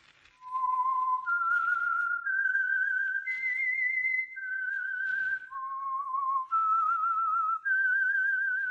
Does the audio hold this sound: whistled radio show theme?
yes